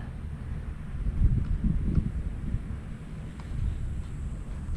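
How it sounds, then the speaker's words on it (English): Wind buffets the microphone in a continuous low rumble with stronger gusts swelling and fading while an FMS Fox 800mm RC glider is flown outdoors; no one speaks. "wind's pushing to the right"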